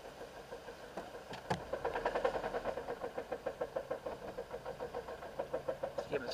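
A 2007 Saturn Ion engine cranks and starts from cold, then settles into a steady rhythmic idle with a regular pulsing knock, recorded nearby at moderate level.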